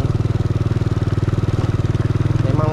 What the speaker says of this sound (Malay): Kalau aku naik motor ni pun dah genjuk dah